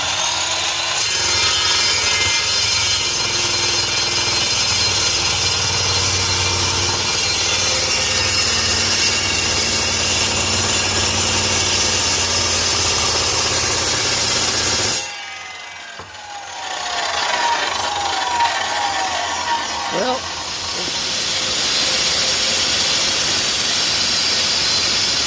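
Carbide metal-cutting saw blade grinding through a Dana 80 axle, a loud continuous abrasive whine with rasping rubbing texture, briefly dropping off around the middle before resuming strongly.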